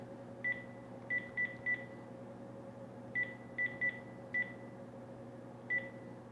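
Short electronic telephone dialing tones from redialing a phone number, about nine clipped beeps in two quick bursts over a steady low hum, with no talking.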